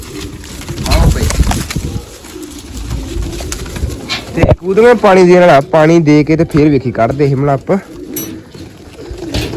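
Pigeons coo in soft, throaty bursts while someone talks at length nearby, his voice dominating much of the stretch.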